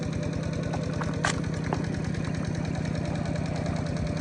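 A small engine runs steadily beside an old fish pond, its low, even chugging pulse constant and close throughout, with a few faint higher clinks over it.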